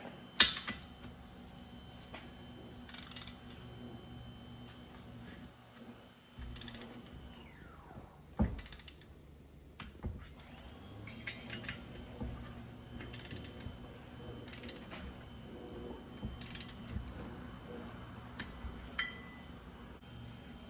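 A torque wrench tightens Yamaha Blaster engine bolts to 20 foot-pounds, giving faint sparse ratcheting clicks and metallic mechanism sounds in a quiet workshop, with short gaps between the bursts.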